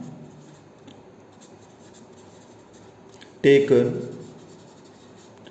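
Chalk or pen writing on a board during a physics lecture, faint scratching under a teacher's speech with one short, louder burst of strokes near the end.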